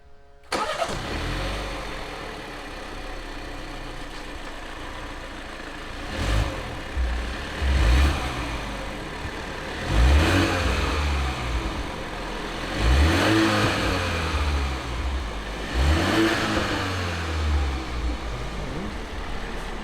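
A BMW G20 330i with B48 engine and Dinan intake cranks and fires up, then revs repeatedly in strong surging bursts with a deep intake roar, settling briefly between each blip.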